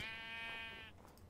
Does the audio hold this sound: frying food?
no